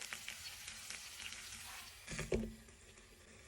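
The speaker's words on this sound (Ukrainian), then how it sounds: "смажиться картопелька" Steady frying sizzle of potatoes in a pan, a soft crackling hiss throughout, with a brief clatter of utensils partway through.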